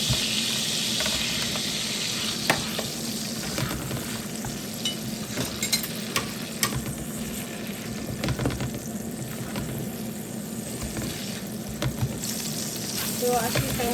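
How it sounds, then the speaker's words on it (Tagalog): Onions fry in a pan with a steady, close sizzle, broken by occasional stirring scrapes and crackles throughout. "So we're gonna start fry first the onion."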